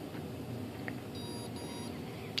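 An ESC in program mode on a Hobbyking Sunbird 1.6 m glider gives two short, high electronic beeps in quick succession over steady background hiss, with no talking.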